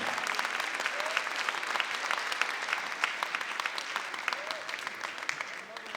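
An audience at a student showcase gives a warm round of applause for an orchestra, a steady, fairly distant wash of clapping with scattered sharper claps and murmuring voices underneath.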